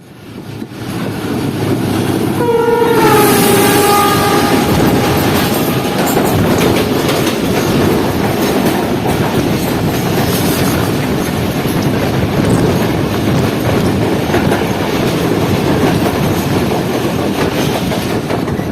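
The Shalimar Express rolls into Kotri with a loud, continuous rumble and rhythmic clickety-clack of wheels over rail joints, with a brief high wheel squeal early on.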